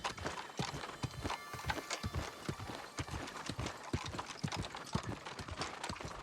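Horse hooves clip-clopping at a steady trotting rhythm in the video game New World: Aeternum, loud and continuous throughout, with an occasional whinny and no talking.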